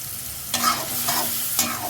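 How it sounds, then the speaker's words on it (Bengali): Peas frying in a pan with mixed vegetables, hissing steadily as a spatula scrapes through them in two or three clear stirring strokes, close and fairly loud, with no voices. "সাথে দিয়ে দিব মটরশুঁটি দিয়ে আমি 2-3 মিনিট ভাজা নিব"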